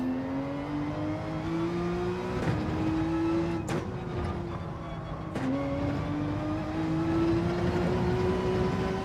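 A race car engine in Gran Turismo 7 in rainy conditions, revving steadily with a rising whine through the gears and brief dips at shifts, loud and continuous with a couple of sharp clicks.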